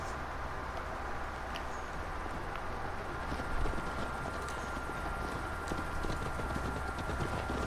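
Horse hooves clip-clop in a steady rhythmic gallop during a ride in the video game Assassin's Creed Valhalla, moderately close over a low ambient bed, with no speech.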